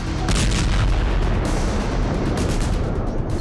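Iranian missile strikes hit Tel Aviv, with loud, continuous rumbling blasts and booming detonations filling the scene, no voices present.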